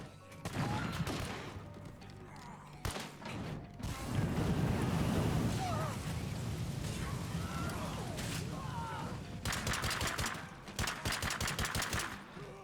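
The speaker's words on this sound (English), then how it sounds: "I'm just shooting over the head of this zombie" Gunshots fired over a zombie's head in a zombie video game, sharp repeated bursts of rapid fire in several clusters, with a dense flurry near the end, mixed with mechanical clanks and creaks and occasional talk.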